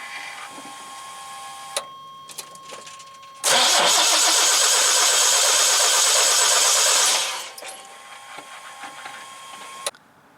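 A Chevrolet C1500 OBS pickup with a no-start fault cranks for about four seconds in a loud, even, rapid churning burst that never catches, set between quiet stretches with a few faint clicks and a steady hum.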